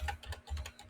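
Rapid keystrokes on a computer keyboard, a short close burst of clicks in uneven rhythm, heard alone with no talk.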